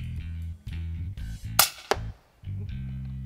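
A long-range rifle shot fired at a dassie on a South African farm cracks out sharply once, loud and close, followed by a brief second report or echo over a low steady hum, with no talking.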